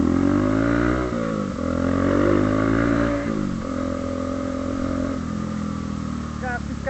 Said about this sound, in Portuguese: fica um louco que tá acelerando essa moto aí